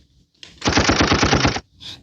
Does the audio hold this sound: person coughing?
no